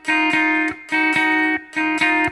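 A distorted electric guitar in drop D tuning plays a short riff in three loud, sustained bursts with brief gaps between them, no voices present.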